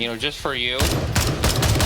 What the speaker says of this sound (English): I mostly hear the gunfire.